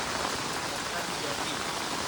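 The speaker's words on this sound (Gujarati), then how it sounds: "ભારે વરસાદની મોજ અમારા ગામમાં ધોધમાર વરસાદ" Heavy torrential rain pours down on a village, a dense, unbroken roar of drops hitting surfaces close by, loud and steady throughout.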